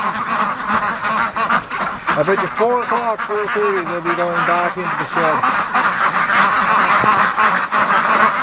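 Breeding ducks quack and geese-like honks ring out in a lively flock, calls rising in a clear burst midway, with someone talking over them throughout.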